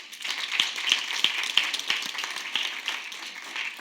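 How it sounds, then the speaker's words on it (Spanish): A church congregation claps during a Spanish-language worship service led by a pastor, scattered hand claps forming a steady moderate patter for a few seconds without speech. "Denle un aplauso al Señor."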